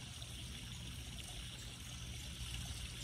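Water trickling from a natural spring on a nature hike, a steady soft babbling flow heard close and alone, with no voices.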